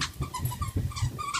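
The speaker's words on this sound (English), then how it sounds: "Yay, the dog found his toy." Small dog growling and making playful grumbling noises while playing with its toy, close by in a craft studio, with short bursts of rumbling and yips over about a second and a half, no talking.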